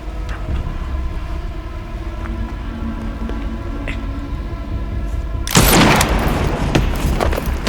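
Gunfire in an action movie battle: a low, steady rumble of score and ambience gives way at about the five-and-a-half-second mark to a sudden loud burst of shots that keeps crackling to the end.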